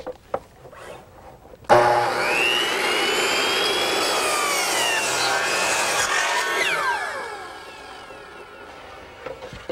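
A power miter saw whines up and cuts through wood close by for about four seconds, its high pitched motor falling away as the blade spins down, with a few short clicks before and after.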